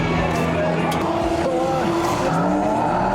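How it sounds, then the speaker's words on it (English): Motorcycle racing in the arcade game Super Bike 3 at a Las Vegas hotel arcade, with continuous loud engine whine, shifting pitch and tire squeals over busy arcade background noise. "now we're doing this motorcycle stuff. Super Bike 3"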